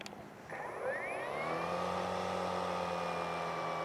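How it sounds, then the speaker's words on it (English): A Litheli U20 cordless string trimmer on its low setting spins up from quiet over the first second into a smooth, steady electric whir with a rising tone, close by and alone. "let's start with the low setting and just listen to what it sounds like."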